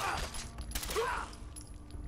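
Fallout 4 gunfire strikes the ground in a quick, faint burst of shots over quiet game ambience.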